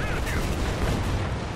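Gunfire and booming battle noise from the World War II strategy game Company of Heroes 2, on a Soviet campaign mission, a dense continuous rumble of shots and blasts, loud throughout with no gaps.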